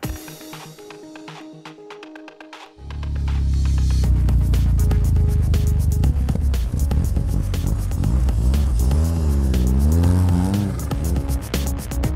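A snowmobile engine starts after a quiet moment, then roars up close and loud, revving repeatedly with rising and falling pitch over a steady throb.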